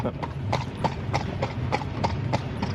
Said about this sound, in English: can't you feel the sound of the horse steps like ASMR?